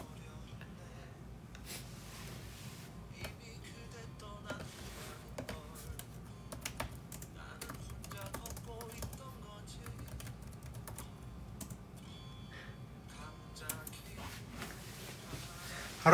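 Someone typing a comment on a computer keyboard, a steady patter of quiet key clicks over about sixteen seconds, close but faint, with no talking.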